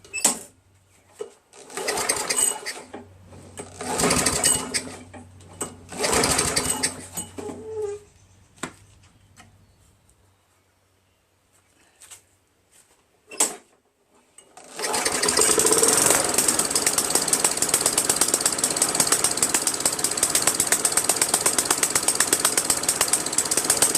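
A Tecumseh engine on a Snapper Craftsman lawn mower sputters in uneven bursts at low RPM, nearly dying into silence, then catches and runs with a steady, rapid, close chatter.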